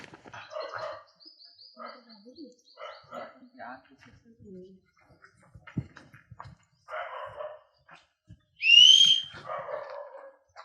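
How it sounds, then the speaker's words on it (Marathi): A single sharp, rising whistle cuts through a village scene for about a second, set between stretches of quiet conversation and faint barking. "तू चल मग बघू कोण शिट्टी मारते"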